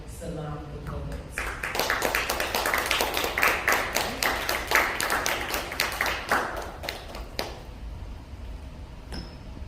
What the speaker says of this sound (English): Ladies and gentlemen, start clapping and give it up for Salam the poet.